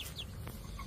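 A mother hen gives a short, soft cluck, quiet and close, with a faint chirp mixed in.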